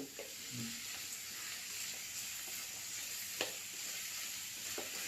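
Vegetables sizzle steadily in a hot pan on low heat with a constant hiss, broken by a few soft stirring scrapes and clicks, no voices.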